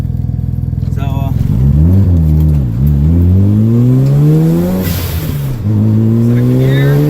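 A car with a freshly repaired transmission accelerates through its gears, the engine note climbing in pitch, dropping at each shift and climbing again, loud and close, with a voice speaking over it.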